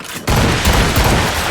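Ship cannons firing in Assassin's Creed Rogue, a sudden loud broadside of overlapping booms and rumbling blasts after a brief quiet moment, alone without talk.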